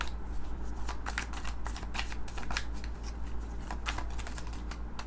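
Tarot cards are shuffled close up in a continuous riffling flutter of rapid papery flicks over a low steady background hum.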